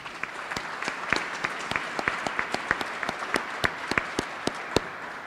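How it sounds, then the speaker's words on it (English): Scattered, sparse clapping from a small audience at a bill-signing ceremony with the Kentucky governor. The individual claps are distinct and fairly even, with no talking over them. "Can we give him a round of applause?"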